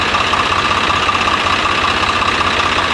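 A vehicle engine idles loudly and close, a steady low throbbing rumble with an even mechanical pulse and no one talking.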